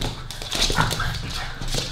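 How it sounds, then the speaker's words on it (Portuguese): An agitated dog barks and whimpers at close range, its rough, repeated barks running over steady background noise with faint voices around it. "Meu Deus do céu, o cachorro tá doido."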